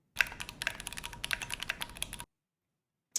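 Fast typing on a Keychron Q3 mechanical keyboard, a close, crisp run of clacking keystrokes for about two seconds, then silence and one last key press.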